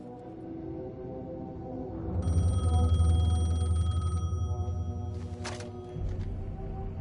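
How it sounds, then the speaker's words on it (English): A telephone rings in the video game Alan Wake 2: a steady electronic ring that holds for about two seconds, then cuts off, over a low droning game ambience. "phone was ringing"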